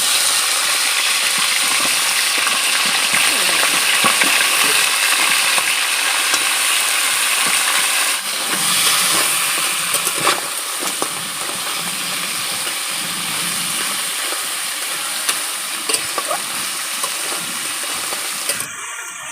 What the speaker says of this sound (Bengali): লবণ আর হলুদ দিয়ে ম্যারিনেট করে রাখা কাঁকড়াগুলো আমি এবার ভেজে নেব